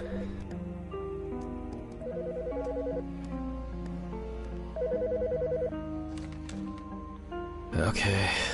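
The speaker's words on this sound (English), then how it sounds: "The fucking phone." A telephone rings in repeated electronic bursts of rapid trilling tones, with musical tones playing alongside and a louder noisy burst near the end, moderately loud and close.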